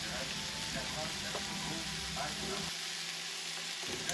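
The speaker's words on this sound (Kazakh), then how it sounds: "Енді етімізді қызып тұрған майға сушеный чеснок қосып қуырамыз." Soy-marinated beef frying with dried garlic in hot oil gives a faint, steady sizzle and crackle that runs throughout the short stretch.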